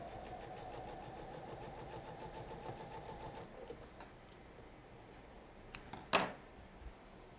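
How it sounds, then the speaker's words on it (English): Quilt pieces run through a sewing machine and sewn off onto a fabric ender: a steady, quiet stitching whir for a few seconds that stops, followed by a couple of sharp clicks. "Let me grab my ender and sew off."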